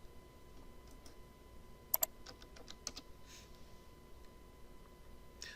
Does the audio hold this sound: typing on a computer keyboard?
yes